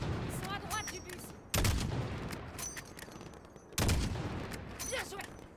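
Gunfire crackles in bursts during a Call of Duty Modern Warfare mission, with sharp loud shots over continuous battle noise and radio voices talking underneath.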